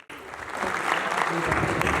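Loud, dense applause from an audience at an award ceremony, starting abruptly and filling the whole stretch with steady clapping.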